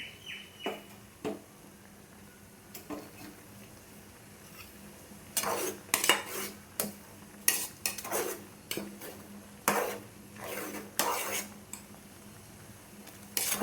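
Metal spoon scraping and knocking inside a pot of murungai keerai (drumstick leaf) soup, a run of sharp, close clinks and scrapes in irregular bursts over a quiet kitchen background, no talking.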